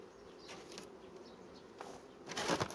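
Honeybee colony humming at an open hive during an inspection for dampness, a low steady drone with a few brief louder passes, swelling near the end.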